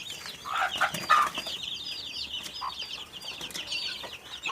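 Burmese-breed mother hens cluck in brief, close bursts around the first second, while birds chirp steadily in the background and wings flap faintly. There is no talking.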